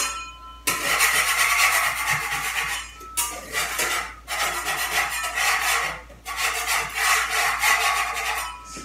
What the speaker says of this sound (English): scrape up some of the bacon crust